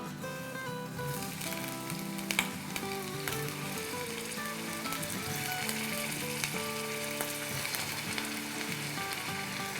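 Potato pieces fry in a tablespoon of hot oil in a pot, giving a loud, steady, continuous sizzle and crackle with occasional faint stirring clatter, no voices.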